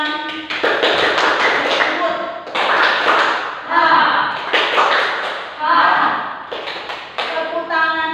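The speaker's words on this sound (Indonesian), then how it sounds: "Tepuk tangan." A school class claps in rhythmic bursts of many hands, with voices chanting along in a loud, repeating pattern.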